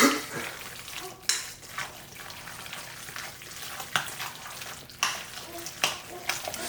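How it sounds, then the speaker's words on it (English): Spoon stirring seasoned shrimp mac and cheese in a pot, giving soft wet scraping with a few sharper clicks against the side, heard close up. "And we just gonna stir this up."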